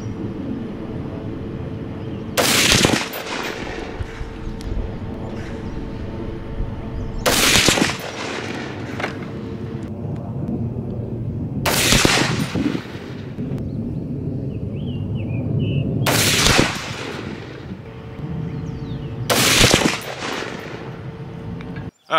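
Five loud rifle shots from a Sig 716i fired at a range while testing ammunition, spaced about five seconds apart, each a sharp crack with a brief ringing tail over a steady low background rumble.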